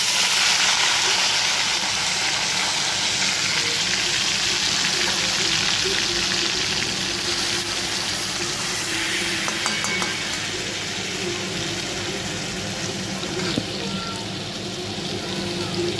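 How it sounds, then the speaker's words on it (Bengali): Marinated chicken for biryani cooking in a pressure cooker pot, a steady loud sizzling hiss that runs unbroken throughout. "এরপর এর মধ্যে আমি ম্যারিনেট করা চিকেনটা দিয়ে দেবো আস্তে আস্তে"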